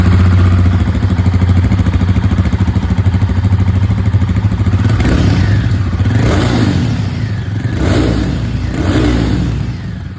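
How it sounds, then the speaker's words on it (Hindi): A Royal Enfield Guerrilla 450 motorcycle engine runs close up and loud, idling with a steady low thrum, then blipped in several rising revs over the second half. "और अब यहाँ पर ये जो गोरिल्ला 450 है इसको भी हम लोग यहाँ पर टेस्ट करते हैं।"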